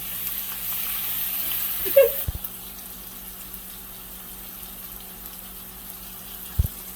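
Pork chops sear in a hot pan with a steady, soft sizzle throughout, broken by a couple of sharp knocks of pan or utensil near the start and end.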